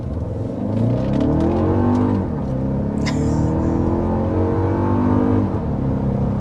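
A car with a 2.4-liter turbocharged four-cylinder engine accelerates hard, its engine note climbing steadily in pitch through a gear, briefly dipping at a shift around the middle before rising again, loud and close.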